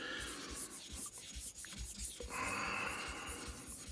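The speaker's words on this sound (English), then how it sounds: "This is a well-worn 600 grit diamond stone, so it's going to take a minute, it seems, with this." A blade is honed on a well-worn 600 grit diamond stone, giving quiet, steady rasping strokes in a repeated back-and-forth rhythm, close and faint.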